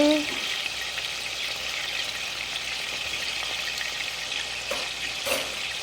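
Chopped onion goes into hot oil in a pan after prawns have been fried, giving a steady, fairly soft sizzle and hiss with a few faint clinks.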